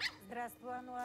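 A dog gives a brief yip and whimper indoors, close and mixed with a person speaking.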